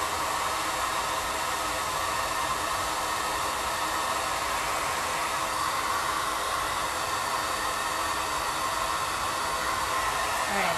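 A hair dryer blows steadily at close range while hair is dried before braiding, a loud, constant whooshing roar that stays unchanged throughout with no talk.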